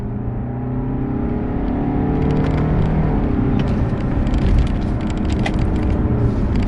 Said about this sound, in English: let's see what the acceleration's like. Manual, let's go. It's pretty punchy.